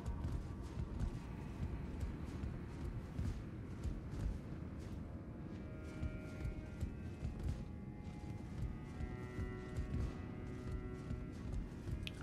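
Steady clip-clop of hooves as a rider travels on a goat's back in Elden Ring Shadow of the Erdtree, a continuous rhythmic trot close up over a rumbling game backdrop.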